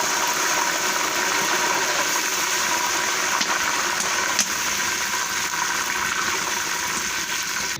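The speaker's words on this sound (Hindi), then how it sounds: "ये जो हमारे पास दाल के ऊपर पानी था वही हमने डाला है प्याज के ऊपर" Water pours steadily from a pot of soaking red lobia lentils onto browned onions in a Kashmiri-style dal, a continuous rushing gush with no talk.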